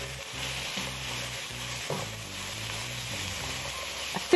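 Soy sauce sizzles hard in a hot pot while vegetables are stirred through it for jjamppong ramyeon, a steady close crackling hiss with a couple of sharp utensil knocks near the end.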